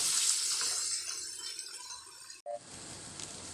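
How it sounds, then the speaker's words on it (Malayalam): Tamarind water is poured into a fish curry in a home kitchen in Dubai, making a steady splashing trickle that stops abruptly, followed by a brief clink and a quieter, even background wash. "ഇനി നമുക്കിതിലേക്ക് പുളിവെള്ളം ചേർക്കാം"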